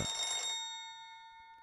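An old black rotary telephone rings in a PS4 horror adventure game, a single bright metallic bell burst that quickly fades into a lingering tonal ring, fairly faint.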